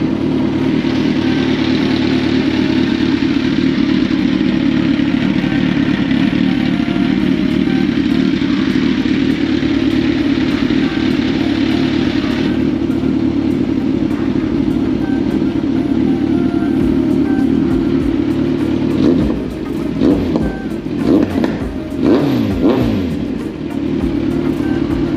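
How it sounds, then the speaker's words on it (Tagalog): Kawasaki Ninja 1000SX fitted with an AR shorty exhaust idles loudly and steadily, then blips through several sharp revs toward the end, close and alone. "Sound check natin yung Ninja 1000 na naka AR shorty na pipe."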